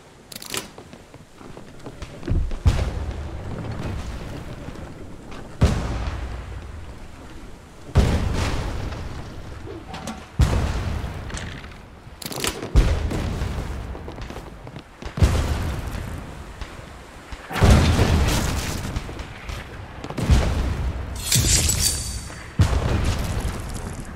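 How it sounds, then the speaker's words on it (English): Ship cannons fire in the Blazing Sails video game: about eight heavy booming blasts, spaced a few seconds apart, each with a long rumbling decay, loud and close. "Fire the left cannons."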